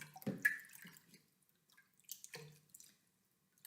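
Water poured from a cup into a container, two short, faint splashing pours separated by a pause, heard close up in a quiet room with no talking.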